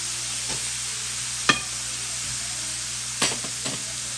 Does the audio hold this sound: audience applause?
no